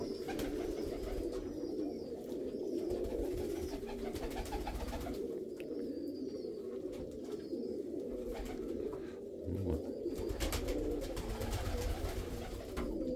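Pigeons coo in a dim dovecote with chicks and eggs, low soft repeated calls close by, continuing steadily with rustling and no talk.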